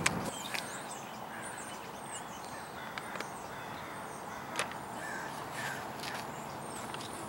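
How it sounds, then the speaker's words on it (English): Outdoor birds call repeatedly over steady background noise, with sharp caws and chirps scattered throughout, moderately loud. "Those birds are so loud right now."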